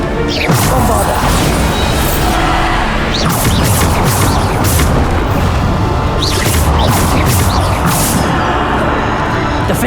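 Bombardo spell blasts in Hogwarts Legacy, repeated crashing booms and whooshes in a dense, loud stream of combat effects, with a voice speaking over the action.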